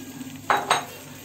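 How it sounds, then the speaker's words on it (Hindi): Two quick scrapes of a spoon against a pan as boiled, chopped potatoes are stirred together with peanuts, short distinct clinks close by over a quiet kitchen background. "आलू इनको हम थोड़ा सा चला दें जिससे मूंगफली इवनली मिल जाए।"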